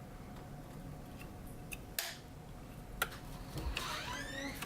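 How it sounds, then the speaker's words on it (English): A plastic radio transmitter case being pried open by hand, working down the side, gives a few sharp plastic clicks and snaps with light scraping between them, close and fairly quiet with no talking. "And then I just sort of work my way down the side and pop it out."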